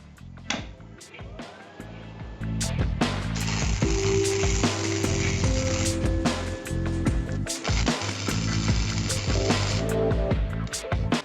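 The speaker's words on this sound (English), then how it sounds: "So that's it tacked on." Tack welding a kickstand mount onto a TS200R dirt bike: a few sharp clicks and knocks, then a steady, loud crackling buzz from the welder that runs for most of the clip with short breaks.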